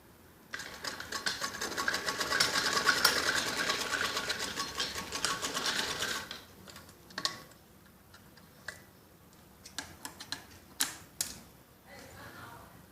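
Sewing machine stitching a kids' skirt top, a fast continuous whirring run for several seconds, then scattered short bursts and clicks with pauses between.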